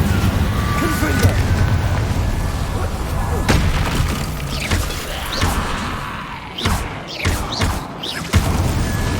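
Booming fire-spell explosions in Hogwarts Legacy, several heavy blasts and crashes rolling over dense battle noise, with a voice shouting spell names.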